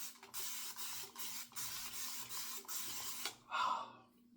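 Thayer's cucumber mist is pumped from a spray bottle after a shave, a series of short, close hissing spritzes in steady rhythm, followed by a longer breathy puff near the end.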